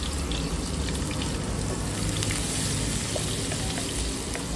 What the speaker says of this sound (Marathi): कांदा थोडासा परतून घेऊ आपण पहिले.